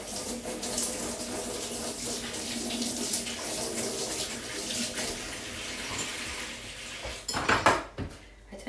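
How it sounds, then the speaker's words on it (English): Dishes and cutlery rinsed under a running kitchen tap, a steady close wash of water with clinks, ending in a few louder splashes and clatters near the end. "If you rinse things really quickly, nothing sticks, okay?"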